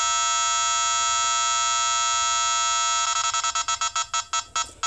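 An Escort Passport Max and Escort 8500 X50 radar detector alert on quick trigger: a steady loud electronic tone holds for three seconds, then breaks into rapid pulsing beeps that speed up, with no voices.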